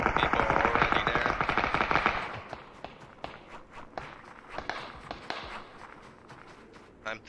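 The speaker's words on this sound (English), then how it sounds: "A lot of people are shooting from there." Gunfire from players shooting in PUBG, dense rapid rattling shots at first, then scattered distant single cracks and short bursts mixed with footsteps, while people talk over it.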